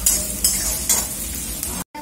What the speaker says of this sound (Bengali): আর আমি এটা পেঁয়াজটা তখন ভাজছি